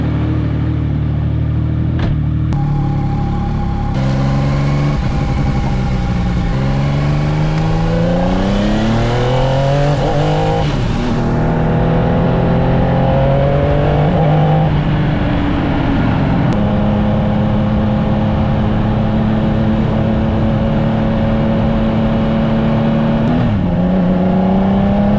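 Yamaha FZ09 motorcycle engine on a ride, loud and steady throughout, its tone rising and falling through gear changes as the bike accelerates, with no voices.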